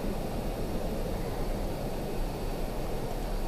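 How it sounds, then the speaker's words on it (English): Spaceship afterburner engaged in EVE Online, a steady loud broadband roaring hiss that holds constant throughout with no pauses. "Just for giggles, we'll use the afterburner."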